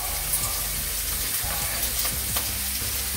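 Ingredients for a Kerala-style omelette are stirred in a hot pan, with a continuous dense sizzle and soft scraping strokes of the spoon.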